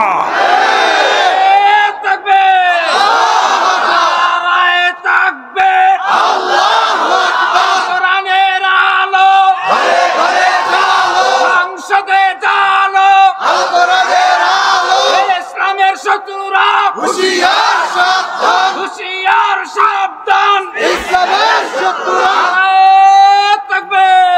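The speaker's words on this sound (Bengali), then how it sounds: "নারায়ে তাকবীর এটা আমার বিপ্লবের স্লোগান" A large crowd chants the Nara-e-Takbir slogan in loud, repeated bursts of many voices, with a strong lead voice carrying through, for nearly the whole stretch.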